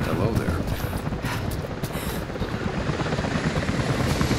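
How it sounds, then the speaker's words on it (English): Helicopters in the video game Rise of the Tomb Raider approach as a steady, dense rotor thrum with rapid chopping pulses, loud and continuous throughout, layered over a busy low rumble of game effects. "helicopters are headed your way"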